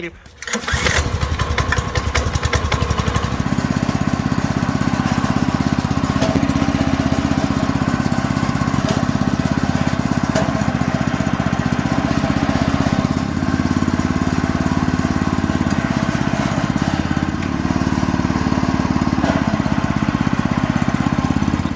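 WEIMA WMX520 walk-behind tractor, a motoblock with an 18-blade sabre-shaped rotary tiller, starts with a sputter and settles into a loud, steady, close engine drone that runs unbroken throughout.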